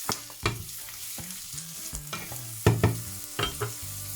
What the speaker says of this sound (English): I'm gonna cook this for about just a minute so that it can get all mixed up with the onions and the garlic.